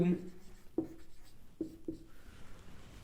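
Chalk or marker writing words on a board during a Hindi grammar lesson, with short scratchy strokes at irregular intervals under a man's spoken explanation.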